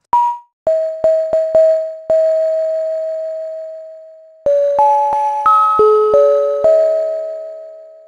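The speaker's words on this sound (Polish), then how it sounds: "Ostatnią barwą, którą stworzymy, będą egzotycznie brzmiące dzwonki." Synthesized exotic bell tones from a sampler in PreSonus Studio One play a run of bright struck notes, one ringing long and fading, then a quicker stepping sequence of pitched chimes with sustained decays, clean and loud with no voices.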